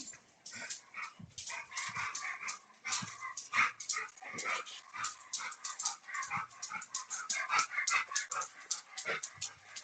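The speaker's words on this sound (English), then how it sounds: "is your dog running around in circles chasing its tail?" A dog whimpers, yips and pants in quick uneven bursts while scampering around, fairly close and moderately loud, with no talking.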